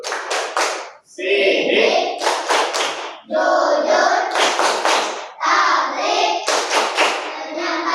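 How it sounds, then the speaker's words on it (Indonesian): Teacher and pupils in an Indonesian Islamic religious studies class perform a rhythmic clapping chant about the Prophet's attributes, with loud bursts of group claps woven between chanted voices in a steady classroom rhythm. "Tepuk sifat wajib dan mustahil bagi Rasul."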